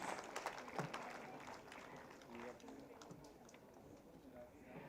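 Audience applause at a women's award ceremony, fairly faint scattered clapping that rolls on steadily through the few seconds, with background voices mixed in.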